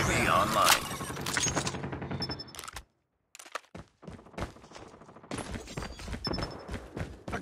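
Rapid bursts of automatic gunfire in Call of Duty Mobile multiplayer crackle loud and close, break into a brief silence, then come back as scattered single shots and short volleys, with voice lines spoken over the game sounds.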